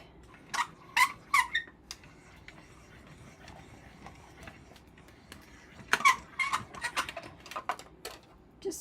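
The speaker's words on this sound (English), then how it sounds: "Wish I could get this so it didn't squeak." A card-making die-cutting machine squeaks in short, faint bursts, two clusters of thin squeals and ticks several seconds apart, close by in a quiet room.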